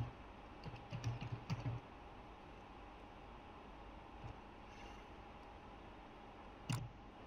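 Computer keyboard typing, a short flurry of soft close key taps, then a quiet room hum, and a final couple of taps near the end.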